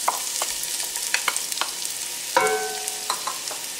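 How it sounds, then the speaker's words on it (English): Chopped onions hit about a quarter cup of hot extra virgin olive oil in a pan for lobster cioppino, giving a bright, steady sizzle with scattered pops and a few utensil clicks, close and alone. "we're going to start off with our extra virgin olive oil, about 1/4 cup"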